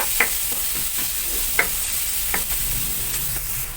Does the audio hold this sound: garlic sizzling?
yes